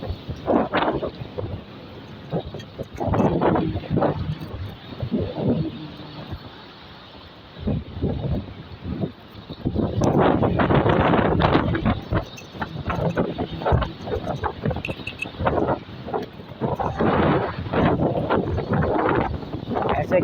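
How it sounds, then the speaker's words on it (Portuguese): Strong wind gusts roar through a city neighborhood in Araraquara, buffeting the microphone in heavy, fluctuating surges, with a voice at times under the rush. "É muito perigoso esse vento assim, viu?"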